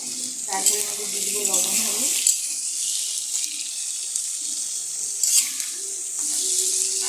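Potatoes frying in a pan: a bright, continuous hiss and crackle that stays fairly loud throughout, with a few short low tones early on and a brief flare midway.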